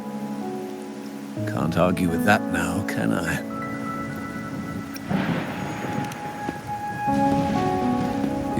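Steady rain patters on a surface throughout in the video game Wuthering Waves while a voice talks over it and soft music plays.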